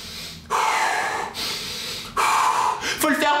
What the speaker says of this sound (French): on va faire des petits exercices de respiration